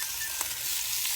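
Meatballs browning in a hot pan, a steady close hiss and sizzle of frying with a faint stir partway through, no voices.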